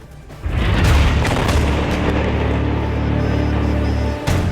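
A bomb from an Israeli airstrike in Lebanon detonates in one deep, loud boom whose heavy rumble sustains for several seconds before cutting off, followed by a brief second thump.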